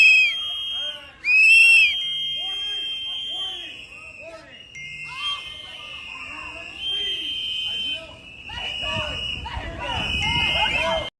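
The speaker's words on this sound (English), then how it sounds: "sorry about the whistles." Shrill whistles blown by protesters sound in repeated piercing bursts and sustained tones, loud and close, mixed with voices talking and shouting throughout.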